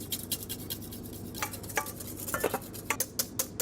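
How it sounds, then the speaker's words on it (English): Egg yolk being whisked with butter for a warm sauce, a metal whisk ticking and scraping against the bowl in quick, light, irregular strokes, close and fairly quiet with faint kitchen hum beneath. "We heat the egg yolk a little bit, give some temperature, whisk it, butter, slowly, drops by drops"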